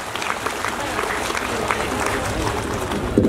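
Loud, sustained applause from a crowd at an honoring ceremony during a fundraising event, dense clapping that fills the whole stretch evenly.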